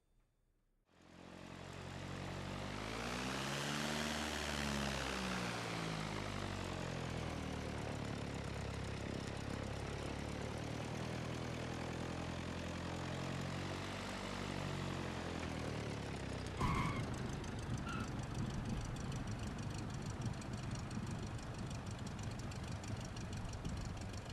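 Simulated Cessna 172 piston engine from Microsoft Flight Simulator X during a landing replay, a steady loud propeller drone whose pitch sweeps up and down, then shifts abruptly near the end to a rougher, lower idle-like rumble; no talking.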